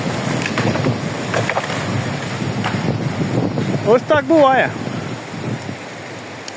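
Strong stormy wind roars steadily through a forest during a gale, with leaves blowing about, while a person talks over it and briefly exclaims.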